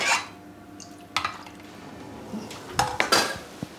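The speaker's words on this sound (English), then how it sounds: "We're going to add our butter beans to the stock and then continue to add the rest of the stock" Butter beans and stock go into a saucepan for pumpkin soup, with a few sharp clanks of a utensil against the metal pan and faint liquid movement between them.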